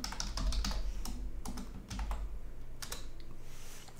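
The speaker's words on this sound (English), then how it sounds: "type in Git clone." A git clone command is typed on a computer keyboard, quick uneven bursts of soft clicky keystrokes close to the microphone with brief pauses between groups, and no voices.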